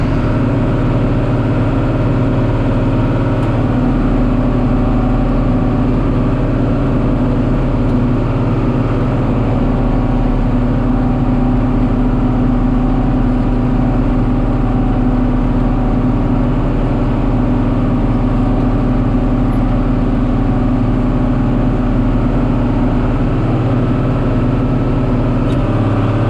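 A John Deere tractor in gear pulling a roller harrow gives a loud, steady low engine drone that holds unchanged from start to finish, with no voices.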